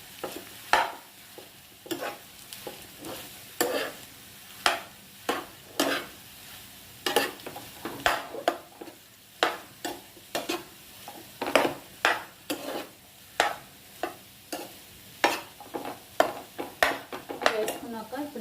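Potatoes being mashed in a pan for potato chaat, a long run of regular scraping, knocking strokes of utensil against pan, near and fairly loud, repeating roughly every second with no talking.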